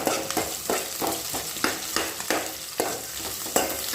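Mustard seeds, curry leaves and garlic crackle and sizzle in a hot pan while a spoon stirs them in steady, close scraping strokes roughly every half second, with no voices.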